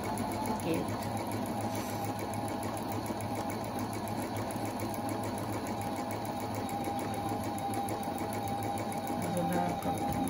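A Husqvarna 230 Electronic sewing machine stitches steadily, a close, even mechanical whir and rapid needle chatter running unbroken throughout, with a voice talking faintly underneath.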